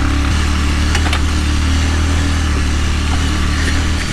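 Motorcycle engine droning steadily and loud while riding with a passenger on board, on a ride from Chamba toward Sach Pass, with a constant low rumble and wind throughout.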